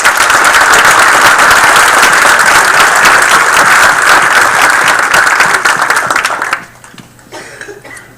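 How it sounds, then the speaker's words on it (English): Sustained loud applause from an audience at a township council meeting, steady clapping for about six and a half seconds before fading into scattered claps and quiet room noise. "Another round of applause for the sergeant."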